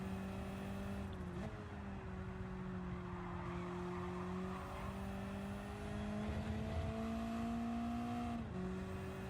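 Engine drone from a car in Gran Turismo 7 holds steady with shifting pitch, rising and dipping through gear changes while the rear swings out and the tires skid, loud and continuous throughout.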